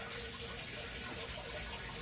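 Steady, quiet splashing of water pouring continuously into a small fish tank, fed from the drain of a grow bed.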